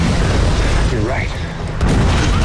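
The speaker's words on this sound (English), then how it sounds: "It's a time quake." A time quake in a superhero TV series rumbles as a dense, continuous low roar with a brief dip midway, loud and filling the whole clip with no speech over it.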